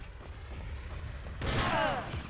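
A burst of rapid gunfire erupts partway through a competitive shooter match between national teams, loud and dense, with commentator voices faintly underneath.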